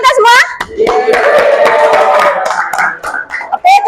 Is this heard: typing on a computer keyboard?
no